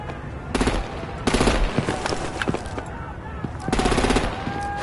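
Machine-gun fire in the Telltale Batman video game rattles in several loud bursts, separated by short gaps, over a background of game action.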